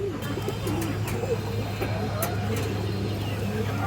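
Pigeons, a paired male and female, cooing softly in low repeated phrases under a steady background hum, with someone talking nearby.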